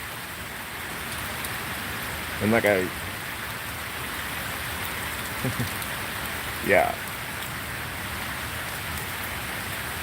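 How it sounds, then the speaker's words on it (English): Steady rain hiss from Tropical Storm Elsa in Florida fills the clip, with a few brief spoken words breaking through now and then. "The way it's raining."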